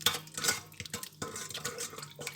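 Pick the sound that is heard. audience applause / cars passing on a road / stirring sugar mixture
stirring sugar mixture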